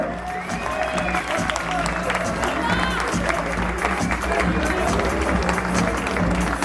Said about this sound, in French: Regardez, vous pouvez les applaudir